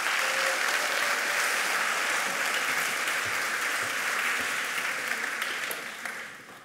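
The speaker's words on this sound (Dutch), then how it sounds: "Geef ze een groot applaus." Large audience giving a big welcoming applause for two invited experts at a talk, a thick, sustained roar of clapping that holds steady for several seconds before tapering off at the close.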